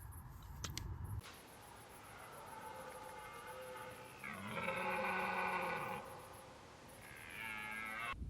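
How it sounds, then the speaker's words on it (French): Red deer stag belling at night in cold autumn air, a soft, drawn-out moaning roar swelling in the middle and returning near the end, moderately distant over a steady background hiss, with no voices. "j'entends un cerf bramer avec une voix très douce."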